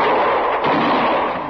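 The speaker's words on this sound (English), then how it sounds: "Look, she's gone and shot Lonnie Pike." A single loud gunshot with a dense, ringing blast fills a western radio drama scene set in a saloon, standing alone without talk.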